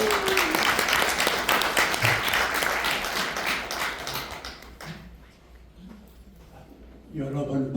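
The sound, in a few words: audience applause welcoming a speaker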